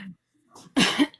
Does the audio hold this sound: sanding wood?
no